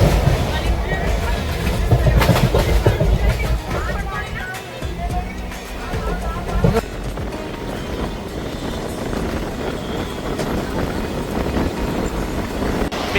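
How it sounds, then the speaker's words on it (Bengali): A Puri Weekly Superfast Express passenger train runs past Mecheda station, a steady rolling rumble with occasional clatter heard from inside the coach, under faint background chatter. "মেছেদা স্টেশন ক্রস করছে আমাদের ট্রেন।"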